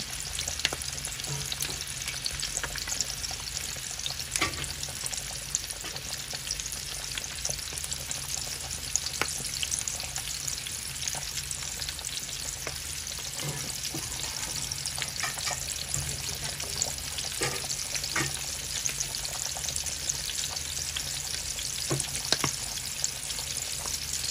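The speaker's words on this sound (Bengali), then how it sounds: "এখান দিয়ে মাছ ভাজি হইবে।" Fish fries in oil in a pan in a home kitchen, giving a continuous, steady sizzle with occasional crackles and light stirring or pouring noises, and no voices.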